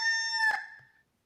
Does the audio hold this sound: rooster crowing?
yes